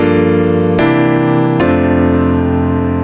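Three sustained piano chords in a 2-5-4 progression, each struck cleanly and held; loud and close, with notes ringing between changes.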